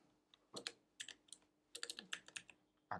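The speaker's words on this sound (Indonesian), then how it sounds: "Kita ketik di sini" Fingers type on a computer keyboard during a programming session, a close run of quick, irregular key clicks in short bursts with pauses between them, heard alone with no talking.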